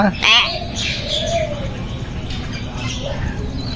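A myna bird calls with sharp whistles and chirps, then gives voice-like warbling phrases that imitate human talk, close and fairly loud against a steady background hum.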